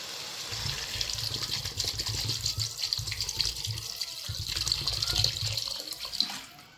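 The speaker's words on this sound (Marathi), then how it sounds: "आता याच्यात ना मी पाणी टाकले" Water poured into a pot of chicken pulao, a steady splashing, gurgling stream close by that runs for several seconds with brief pauses.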